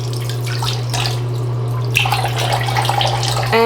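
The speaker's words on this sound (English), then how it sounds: "literally just wet my face with the cold water" Cold water runs from a bathroom tap as someone wets their face, a steady close splash and trickle with drips, alone and without speech.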